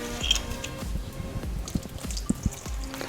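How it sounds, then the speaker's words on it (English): White wine vinegar poured in a short, soft liquid splash and trickle over a few seconds, set against faint kitchen background noise with some light clinks. "A little white wine vinegar."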